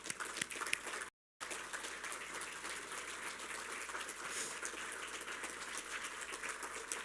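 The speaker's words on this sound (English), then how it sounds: "and give yourselves an applause." A seated crowd at a US Coast Guard Auxiliary district training conference claps together in a sustained, faint wash of applause heard from a distance, with no voices over it.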